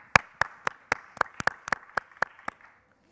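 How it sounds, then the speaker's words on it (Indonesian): Audience at a stand-up comedy competition clapping for a contestant, a sparse run of about a dozen crisp, fairly close claps, irregular in spacing and stopping after a few seconds. "Kasih tepuk tangan yang paling meriah untuk Obet."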